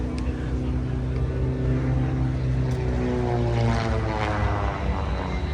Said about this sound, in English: I see the warbirds coming back.